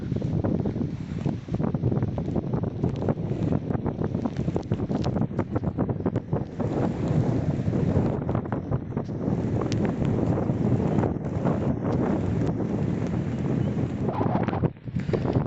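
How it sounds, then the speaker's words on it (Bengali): Strong wind buffets the microphone on a bridge along the road from Kolkata to Phuentsholing, a loud continuous roar with gusty surges throughout and no voices. "এখানে ভয়ানক হাওয়া দিচ্ছে"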